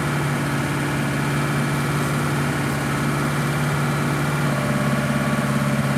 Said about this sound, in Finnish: Nyt on tyhjäkäynti jo